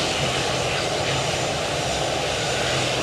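Engines of a KLM airliner at Edinburgh Airport blast in a loud, dense, unbroken roar filling the whole moment, close and overpowering.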